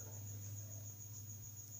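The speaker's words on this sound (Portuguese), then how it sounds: "Grilo que nem a moléstia aqui." Cricket chirping at night, a steady high-pitched trill held without pause over a constant low hum, with no talk.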